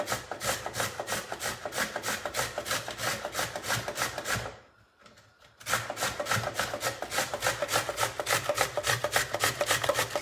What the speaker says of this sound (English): So you just go to town on this beet here.